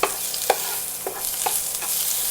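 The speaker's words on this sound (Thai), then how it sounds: "ผัดกระเทียมกับหัวหอมก่อนนะคะ" Garlic and onion stir-frying in a pan, a steady sizzle with several sharp spatula scrapes and knocks at irregular intervals, close and clear without talk.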